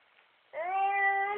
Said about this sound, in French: C'est quoi? Un chat.